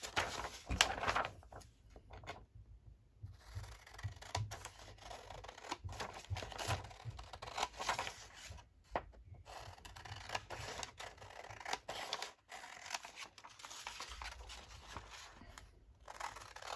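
Scissors cutting book paper for page pockets, a series of close, dry snips and rustling scrapes spread irregularly over the clip, with brief quiet gaps and no speech.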